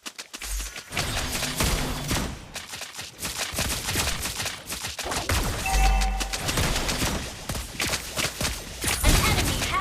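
Gunfire from the mobile game Mobile Legends: dense rapid shots and impacts over game music and effects, loud and continuous with a few heavier thumps.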